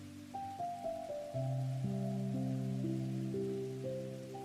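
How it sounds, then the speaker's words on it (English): Steady rain falls outside a medieval tavern with old wooden walls, a soft continuous hiss under sustained melodic tones, constant and calm with no talk. "Listen to the rain beyond the old wooden walls."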